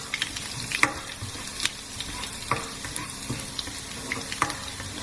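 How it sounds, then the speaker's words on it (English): Fresh chopped garlic frying in a pan for a green bean and potato masala, stirred with scattered scrapes and clinks over a faint steady sizzle, moderately quiet and close, no talking. "Add your garlic. I'm using fresh chopped garlic here."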